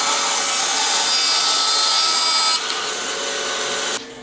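A bandsaw cuts through a piece of scrap wood fed with a push stick, a loud continuous rasping buzz that eases slightly partway through and cuts off near the end.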